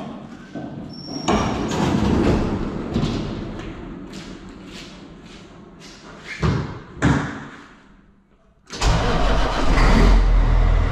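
A semi truck engine cranks and fires up with heavy thuds, settles into a mid-pitched idle, then a few sharp knocks before the engine roars louder near the end, close and loud.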